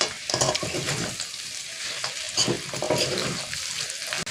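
Free-range local chicken frying and being stirred in a pan, with curry leaves just added, giving a steady close sizzle broken by repeated scraping stirs and bursts of crackle.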